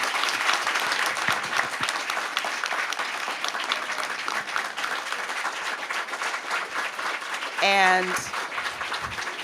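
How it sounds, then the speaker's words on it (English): Audience applause for Congressman Adam Schiff at a book talk fills the room with dense, steady clapping throughout, with a short voice breaking in near the end. "another round of applause for Congressman Adam Schiff"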